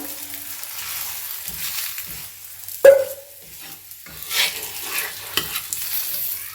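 Oil sizzles steadily under an aloo paratha frying on a tawa, with a few sharper clinks and scrapes of turning partway through, close and moderately loud with no talking.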